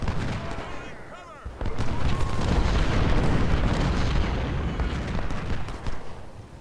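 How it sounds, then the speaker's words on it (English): 24-pounder cannons fire in the Civil War strategy game Ultimate General: Civil War, a deep booming barrage rolling on for several seconds with a voice underneath. "Our 24-pounders are getting prepared to fire."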